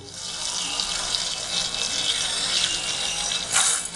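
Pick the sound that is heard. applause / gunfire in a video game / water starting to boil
water starting to boil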